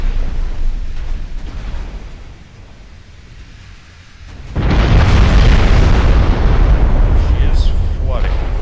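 Heavy 14-inch naval guns boom in Ultimate Admiral Dreadnoughts, a dull rumbling stretch giving way to a loud, sustained roar of overlapping blasts and battle noise that fills the second half.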